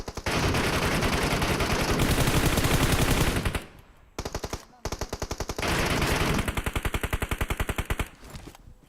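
Rapid automatic gunfire from the battle royale game PUBG Mobile rattles loudly in dense bursts, with brief pauses between volleys and a faint voice talking underneath.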